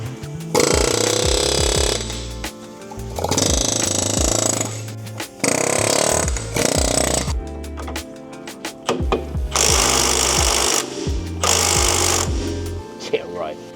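Pneumatic air hammer pounding on the suspension of a 2006 Acura TSX 6MT, loud close rapid hammering in several long bursts separated by short pauses.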